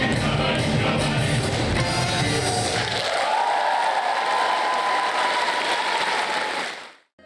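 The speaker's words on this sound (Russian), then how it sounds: "судя по восторженным возгласам и аплодисментам" Concert audience applauding and cheering, dense clapping for about three seconds that cuts off abruptly, followed by a steady hum that fades out.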